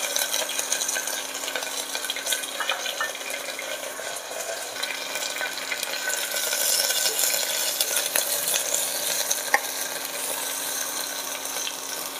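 Cumin, bay leaf and curry leaves frying in a pan for a mixed vegetable daliya khichdi, giving a steady, close sizzle that runs unbroken with no talking.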